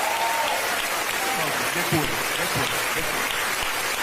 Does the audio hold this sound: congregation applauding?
yes